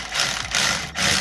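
Ratchet tightening an 8mm battery terminal bolt on a Gen 1 Ford Raptor 6.2L, giving a short burst of close, quick ratcheting clicks in two strokes with a brief pause between.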